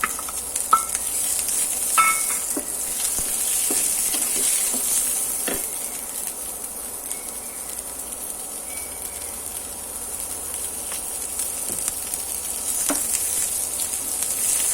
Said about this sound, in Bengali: তেল ছাড়াও ভাজা যায়, একটু তেল দিয়ে দিয়ে ভাজি।